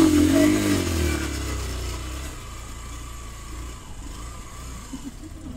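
A motorcycle engine runs steadily at a low rumble while being turned around on a narrow, rough track near Tarkeshwar view tower, loudest at the start and then settling to an even drone with no talking.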